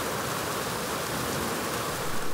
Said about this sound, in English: Got a good little rain there.